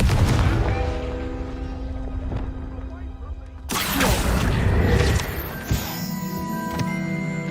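A Confringo fire spell blasts in Hogwarts Legacy, starting as a sudden loud explosive burst partway through, then a rumbling, crackling tail with metallic mechanical tones, over a dense layer of game sound.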